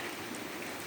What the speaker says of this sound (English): we have a good rainfall.